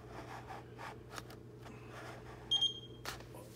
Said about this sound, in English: you're going to listen for a beep again.